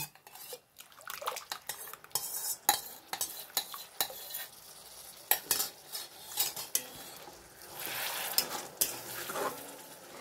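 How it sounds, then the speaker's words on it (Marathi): Paneer masala gravy is stirred in a pan, a spoon scraping and clinking against the metal in uneven strokes, with a light sizzle underneath and no talking. "चांगलं असं मिक्स करून घेऊयात."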